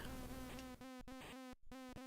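A bee buzzes in the Commodore 64 game Smack Those Crazy Weeds, a steady electronic drone of chip-sound tones broken by a few brief gaps, clear and alone.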